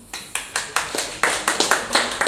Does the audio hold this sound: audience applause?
yes